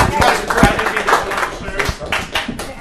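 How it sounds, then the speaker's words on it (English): A round of applause at a town board meeting, with mixed clapping and scattered sharp taps, fairly near and steady, over murmured voices in the room. "Let's give him another round of applause."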